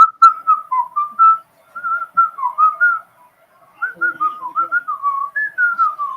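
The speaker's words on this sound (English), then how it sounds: "You want us to whistle while you work too?" A person whistles a lively, bouncy tune up close, loud and clear, in quick phrases with a short pause midway.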